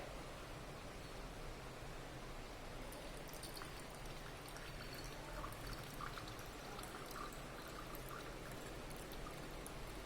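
Aqueous layer draining from a separating funnel into a beaker: a steady, soft trickling pour with faint droplet patters, continuous and alone at low level.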